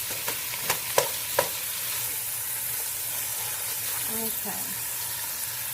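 Homemade chili sizzles and fries in a pan while being stirred, with a few sharp scraping clicks early on over a steady hiss; a brief word is spoken.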